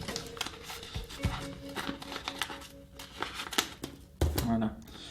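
Close, intermittent rustling and crinkling of paper with sharp taps and scrapes as it is shifted and creased, sporadic and uneven.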